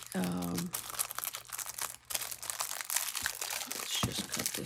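Plastic packaging around a decorative craft paper pad crinkles and is cut open, with close rustling and crunching handling sounds while a person talks over it.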